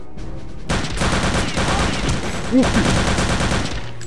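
Enemies fire guns in Return to Castle Wolfenstein, giving a steady, close rattle of rapid shots that runs almost throughout, with a man exclaiming over it.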